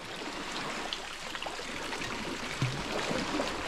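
Rainwater streams from a roof into a drum with a soft, steady trickling wash, faint and continuous, with a few small splashes near the end.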